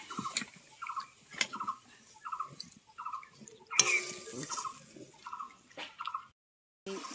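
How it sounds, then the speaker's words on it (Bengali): Water goes into spiced masala cooking in a pan for a sesame and pointed gourd dish, giving a steady run of soft, regular sizzling and stirring bursts at close range with no talking. "সামান্য জল দিয়ে দেবো। জল দিয়ে মশলাটাকে কষিয়ে নেব।"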